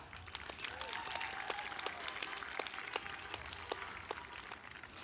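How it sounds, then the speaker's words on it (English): Audience at an outdoor high school graduation ceremony applauding, a scattered, fairly faint patter of individual claps heard from a distance, steady throughout. "I think that deserves a round of applause."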